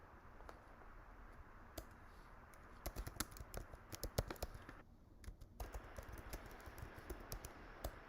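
Git commands are typed on a computer keyboard, fast irregular key clicks with bursts of rapid strokes and a short pause midway, fairly quiet and close.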